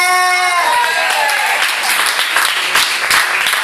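A church congregation at a Sunday healing-testimony service breaks into loud, sustained applause, with dense overlapping claps filling the room after a brief held musical tone at the start.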